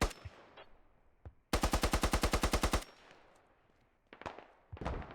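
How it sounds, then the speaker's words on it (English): Video game gunfire in a combined-arms infantry battle: a rapid burst of about a dozen automatic shots rings out loud and close, with a few scattered single shots and booms before and after. "I think he's just blind firing."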